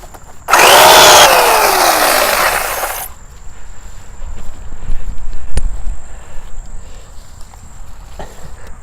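A chainsaw cuts into a tree with a loud, close, steady roaring whine for about two and a half seconds, then cuts off, leaving a faint high hum and scattered small knocks.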